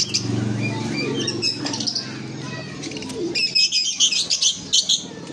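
Caged budgerigars and lovebirds, including albino birds, chirp and tweet in a busy overlapping chorus, with sharp bursts of calls growing louder toward the end; someone talks faintly beneath them.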